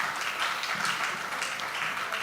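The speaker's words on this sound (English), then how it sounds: "let's give everybody here a round of applause" An audience at a scientific roundtable on reimagining health systems gives a round of applause, a brief, steady burst of many hands clapping in a hall, moderately loud with no talking.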